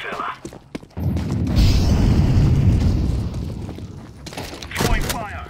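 A Molotov incendiary in Counter-Strike 2 on the Anubis map is thrown and ignites with a loud whoosh, then roars and crackles for a few seconds before dying down, with a short sharp burst near the end.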